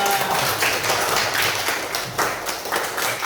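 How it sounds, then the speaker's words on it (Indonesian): A group of classroom students claps for Group A after their presentation, a dense burst of applause that carries on steadily for a few seconds, close by and with no talking. "Beri tepuk tangan untuk kelompok A."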